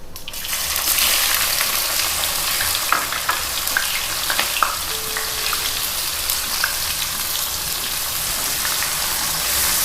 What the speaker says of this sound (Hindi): ये ऑयल गर्म हो गया, ये भी थोड़ी इन्फ्यूज़ हो गई हैं इसमें ज़ीरा और मिर्चें। अब इसमें प्याज डालेंगे।